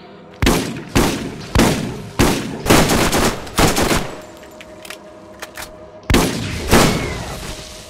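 Heavy gunfire in the video game Borderlands, Zombie Island: a series of loud, evenly spaced shots in a steady rhythm, a short pause with faint clicks, then more close bursts.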